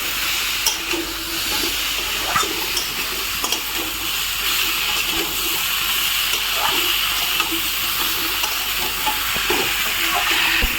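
Water poured into a pan of frying drumsticks and potatoes, giving a steady broad hiss and sizzle with scattered small pops and crackles throughout, loud and close.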